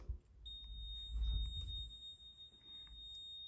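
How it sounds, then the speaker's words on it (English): Kawasaki jet ski kill switch beeping after its lanyard is pulled, a steady high-pitched electronic tone that holds continuously over low rumbling handling noise. "And it's beeping, which means our kill switch is working."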